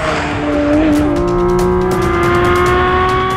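A Porsche 718 Cayman GT4 RS engine roars loudly and steadily, its pitch rising slightly as it revs, close and sustained.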